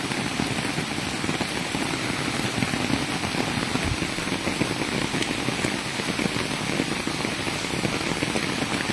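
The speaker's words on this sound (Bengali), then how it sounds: "অনেক বৃষ্টি হচ্ছে আমাদের এলাকায়" Heavy rain pours steadily onto the colored tin sheet roofs of a village, a dense, unbroken drumming roar that holds at the same loud level throughout, with no voices.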